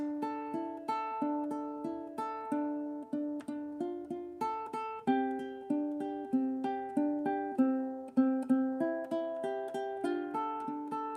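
Ukulele strings finger-picked in a steady, flowing pattern of single notes and chord tones, soft and clear with a gentle lilting rhythm.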